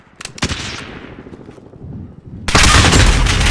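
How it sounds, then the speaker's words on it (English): Gunfire in a modern military shooter, a few sharp cracking shots with decaying echoes, then a sudden dense burst of loud continuous firing close by. "Oh my god, it's a sniper again."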